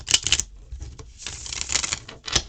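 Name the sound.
shuffling a Rackham tarot card deck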